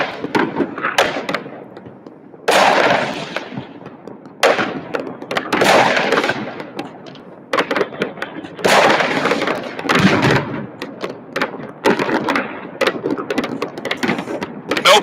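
Repeated loud, sharp bursts of private New Year's Eve fireworks in Tbilisi explode one after another at irregular intervals, each a broad crackling blast with rumbling tails, close by and continuous.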